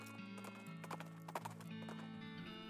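Horse hooves clip-clop in the video game West of Loathing, a light rhythmic run of hoofbeats over sustained tonal game music, with a brief whinny-like accent midway and no talk.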